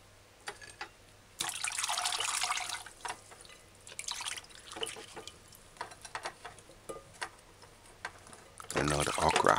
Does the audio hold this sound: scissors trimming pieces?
no